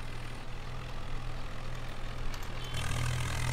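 A tractor engine runs in Farming Simulator 19 with an Indian mod, a steady low drone that grows slightly louder and heavier near the end.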